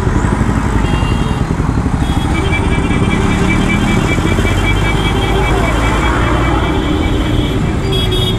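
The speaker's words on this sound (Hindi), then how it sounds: "सो ऐसा कुछ एग्जॉस्ट नोट है।" A 2024 Honda SP 160 BS7 motorcycle runs with a steady engine and exhaust drone, loud and continuous on a road with passing traffic and a brief horn, while someone talks over it.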